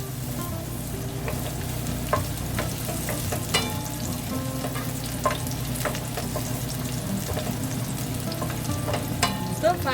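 Garlic stir-fried in a pan for Lao-style spaghetti, a continuous close sizzle with scattered sharp crackles and occasional spatula taps, no voices.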